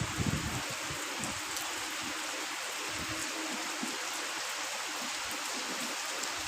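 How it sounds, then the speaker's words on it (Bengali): Steady, dense rain pours down in a constant hiss, heavy and unbroken throughout, with no voices. "খুব জোরে আমাদের এখানে বৃষ্টি নেমে গেছে"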